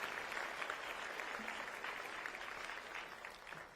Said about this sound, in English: please help give a well-deserved round of applause to Liz